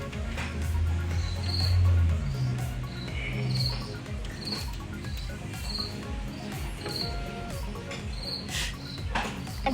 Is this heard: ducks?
no